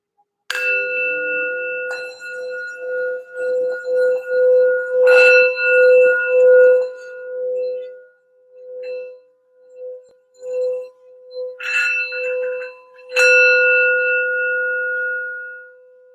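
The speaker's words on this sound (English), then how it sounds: "I'm going to do a quick sound bell for some healing and grounding for the reading." A ringing sound bell struck several times, each strike a bright, clear metallic tone that sustains and slowly fades, with quiet gaps and softer taps between the louder strokes.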